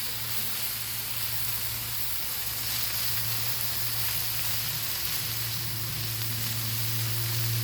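Hermanaki chicken and fried potatoes sizzling steadily on a Blackstone griddle, a loud continuous frying hiss with a low hum underneath and no talking.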